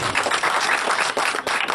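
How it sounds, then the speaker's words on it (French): Audience applause for a candidate at a French-speaking campaign gathering: dense, steady clapping from a crowd that fills the whole short stretch at a loud level, with brief dips in intensity near the end. "On applaudit le candidat"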